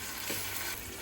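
A brief, steady sizzle from a hot pan as tomatoes go in, fairly soft and even throughout, with no one speaking.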